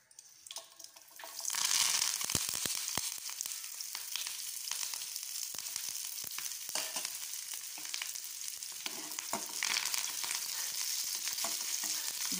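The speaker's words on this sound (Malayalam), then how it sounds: "എണ്ണ നന്നായി മൂത്ത് കഴിഞ്ഞിട്ടുണ്ട്. ഇനി അതിലേക്ക് ഒരു അഞ്ചാറ് ചെറിയ ഉള്ളി, കുറച്ച് കറിവേപ്പില, ഒരു തണ്ട് മുളക്." Shallots, curry leaves and dried chili dropped into hot oil burst into a loud, steady sizzle after a quiet start, crackling continuously and close up with occasional stirring clicks.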